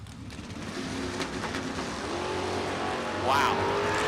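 Drag race cars, a 1972 Datsun and a 1965 El Camino, roar at the starting line of a drag strip event, a dense sustained engine din that swells louder near the end, with a voice faintly mixed in.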